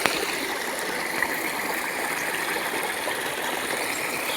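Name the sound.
stream water flowing in the jungle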